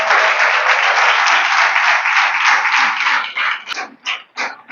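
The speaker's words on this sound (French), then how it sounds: "je voudrais qu'on applaudisse très fort la première femme à avoir créé un journal exclusivement mené par des femmes" Loud, dense applause from an audience at a closing speech of an intergenerational women's dialogue event, sustained for about three seconds before breaking into scattered, fading claps.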